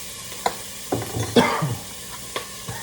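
A spoon scrapes and stirs through food browning in a hot pan, with a soft continuous sizzle and a few clearer knocks and scrapes against the pan, close by and without talk.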